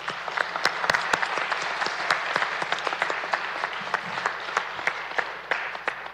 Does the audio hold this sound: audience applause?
yes